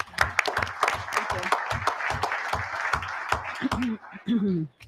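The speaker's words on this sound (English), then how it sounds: "One more clapping." Applause at a school board meeting: a modest group claps in distinct, fairly rhythmic bursts, individual hand claps clearly audible, tapering off as a voice begins speaking at the end.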